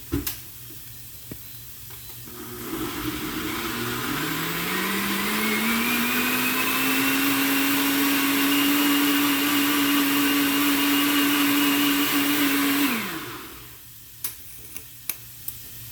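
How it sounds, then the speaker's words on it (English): A kitchen blender whirs loudly, its motor revving up to a steady high whine, running for several seconds before winding down. "I'm going to put it on my little blender over here. Which is going to be loud."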